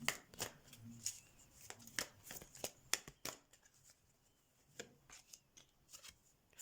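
Tarot cards are shuffled and laid down in quick, crisp riffling bursts and soft slaps, close and quiet, with irregular pauses between handfuls and no speech.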